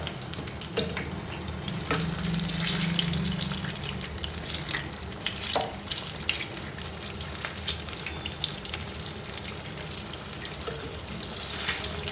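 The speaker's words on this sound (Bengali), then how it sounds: "আমি এভাবে আস্তে আস্তে উল্টে পাল্টে ভেজে নেবো।" Malpua fritters fry in hot oil with a continuous bubbling sizzle, close and even, as they are slowly turned over. Occasional soft taps and clicks of a utensil sound against the pan.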